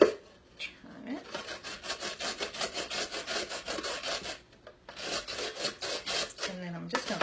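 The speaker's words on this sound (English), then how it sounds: "Now you see I'm rubbing my hand against it. No cuts because it's plastics." A hand rubbing back and forth across a plastic veggie strip cutter set on a stainless mixing bowl, a rhythmic rasping scrape in two close bursts with a brief pause between.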